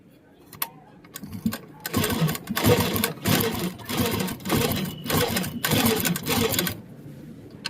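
Sewing machine with a faulty lower stitch running in several bursts, a close mechanical clatter of needle and feed with short pauses between runs, and someone speaking quietly at points.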